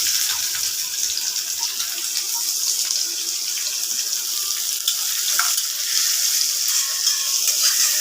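Sliced onions go into hot oil that has just fried koi fish for a curry, giving a steady bright sizzle and hiss throughout, close and even with slight surges.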